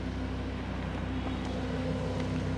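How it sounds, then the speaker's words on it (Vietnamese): A Lamborghini Huracan sits at a racetrack with its engine cover raised, its engine idling in a steady low, droning rumble from close by, with no talking. "Nhưng có một cái thứ mà tôi thấy Lamborghini nó chất thực sự luôn. Tiếng bô xe, ngay bây giờ mời các bạn."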